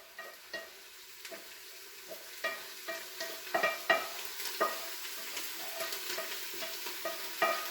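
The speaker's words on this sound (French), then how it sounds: "on va transvaser notre viande dans une casserole plus grande" Ground meat sizzles and fries in a pan as a utensil stirs and scrapes it into a larger saucepan, with soft clinks and scrapes over a continuous low sizzle, no talking.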